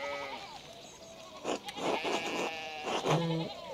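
Sheep bleating in the medieval-set video game Pentiment, several wavering bleats close by over soft background ambience, with no talk.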